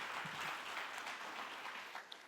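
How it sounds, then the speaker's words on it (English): An audience applauds the discussants at an agriculture and food security panel, a steady, moderately loud patter of many hands clapping that tapers off slightly near the end. "Let's give the discussants here a clap"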